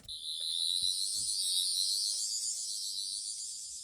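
A continuous high-pitched electronic warbling whine from a Twelfth Doctor sonic screwdriver replica toy, steady and fairly faint, lasting several seconds.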